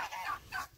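Faint clucking and squawking from poultry, a few brief calls close together.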